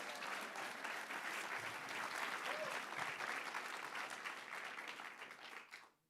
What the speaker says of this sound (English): let's have one more round of applause for Amanda